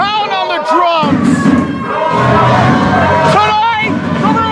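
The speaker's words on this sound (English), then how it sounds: "Now the Rudo fans clap and pound on the drums!" Lucha libre fans at a live main event, a loud crowd roaring and chanting with heavy thumps like drum pounding and clapping woven through the din.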